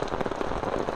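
Heavy rain pours steadily over open ground during a flood-level downpour in Jaffna, a dense continuous hiss close by and unbroken for the whole second, with no voices.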